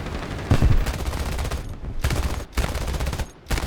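Cannon and machine-gun fire from an A6M3 Mod 22 Ko fighter in War Thunder comes in long, loud bursts broken by brief pauses, with no talking.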